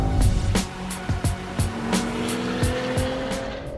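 A 600-horsepower Mercedes-AMG sports sedan drives hard, its engine droning steadily with repeated sharp clicks and thumps from the road passing underneath, heard from inside the car with no talking.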